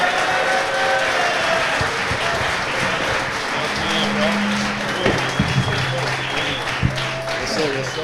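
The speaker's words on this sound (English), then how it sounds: "Let's get a round of applause." Studio audience applauding to welcome basketball player Cam Whitmore, a dense crowd clapping continuously at close range with a voice talking over it.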